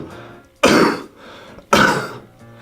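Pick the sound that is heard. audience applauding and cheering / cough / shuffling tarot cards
cough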